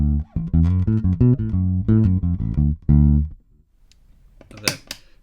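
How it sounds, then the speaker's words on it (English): A bass guitar plays dry without any effects pedal, a run of distinct plucked notes with a clear harmonic tone for about three seconds, then fades out, followed by faint handling noise and a brief scrape. "So here's the sound of my bass on its own."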